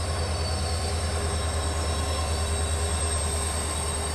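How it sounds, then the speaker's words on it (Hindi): The Rajdhani Express rolls into Guntakal Junction station at night with a steady, loud rumble of wheels on rails and a continuous low drone, broken only by faint high squeals and no voices. "फिलहाल हमारी गाड़ी आकर के पहुंची है गुंतकल जंक्शन रेलवे स्टेशन"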